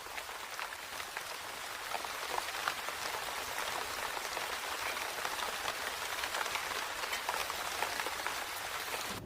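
Steady rain falls in the Sonoran Desert, a dense, even hiss of drops on surfaces that stays constant throughout, with no voices.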